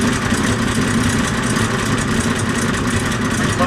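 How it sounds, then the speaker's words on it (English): An M715 truck engine idles loudly and steadily up close, a dense, unbroken rumble with no talking over it. "Engine's running."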